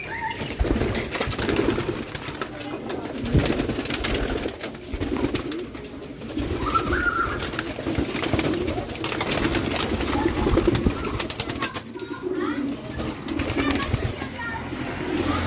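Racing pigeons at a training toss coo and stir outdoors, the murmuring calls and rustling wings continuous and close, with a person's voice calling out over the flock.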